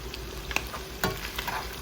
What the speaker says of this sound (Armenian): տապակելու բարձր կրակով երկու կողմից կարմրացնելու եմ